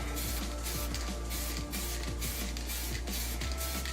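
Spray paint hissing from an aerosol can onto a wheel in freezing cold conditions, a continuous close hiss with rhythmic faint clicks and pulses as the can sweeps back and forth, no voices.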